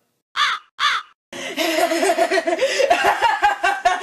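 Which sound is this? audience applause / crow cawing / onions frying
crow cawing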